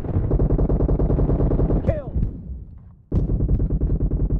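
Rapid bursts of gunfire in BGMI PUBG Mobile team deathmatch, loud and steady rhythmic shots with a brief pause and a swooping effect before firing resumes, over game music.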